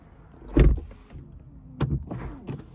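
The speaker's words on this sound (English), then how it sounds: "Let me just demonstrate the soft closing door" A 2022 Bentley Continental GT V8 soft-close door pulls shut with a soft thud, followed by a quieter mechanical motor hum and a couple of faint clicks as it latches.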